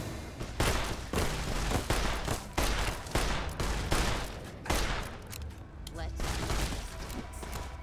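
Rapid gunfire cracks from a six-shooter revolver in the game Fallout New Vegas, with repeated loud shots and booming impacts in quick, uneven bursts, layered under a talking voice.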